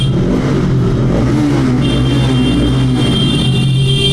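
An RS motorcycle with an aftermarket exhaust revs loudly and close, a thick, continuous engine roar that rises and falls slightly in pitch, with no speech over it.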